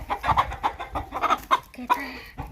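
Hens and a rooster cluck and call in a farmyard, a run of short close clucks with a few longer calls, loud and clear with no talk.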